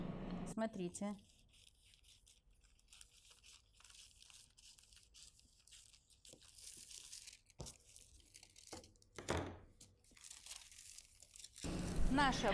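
Scissors cutting along a line of a paper sewing pattern, a basic bodice pattern being reshaped into a vest dress, giving faint crisp snips and paper rustles through a quiet stretch, with a louder crinkle near the end and talk at the start and finish.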